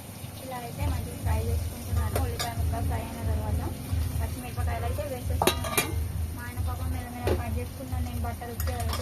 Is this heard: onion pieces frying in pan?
yes